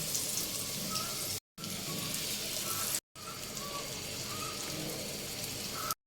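Hilsa fish frying in hot mustard oil in a pan: a steady, loud, close crackling sizzle running throughout, broken by a few brief dropouts.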